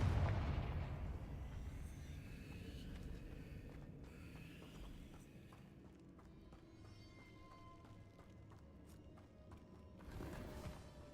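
A fiery Confringo blast spell in Hogwarts Legacy goes off with a sharp, loud burst at the start, followed by quieter crackling impacts and scattered combat noise that swells again near the end.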